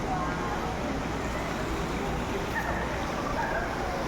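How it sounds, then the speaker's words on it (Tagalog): Rain falling at a seaside resort with a swimming pool in San Juan, La Union, heard as a steady, dense, close hiss that continues unbroken throughout. "Ang ulan pala."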